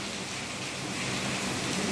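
Heavy rain falls without letup around a sheltered farm enclosure, a close, uniform rushing wash with no speech above it.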